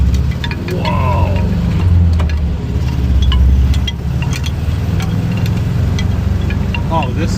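A camper bus engine pulls steadily in second gear toward 35, a constant low droning rumble heard from inside the cabin, with brief excited voices over it.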